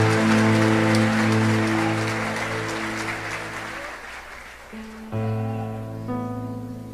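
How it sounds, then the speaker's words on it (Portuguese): A church congregation claps together, a thick patter that gradually thins, while sustained organ or keyboard chords play underneath and shift to a new chord near the end. "dando a Jesus uma linda salva de palmas"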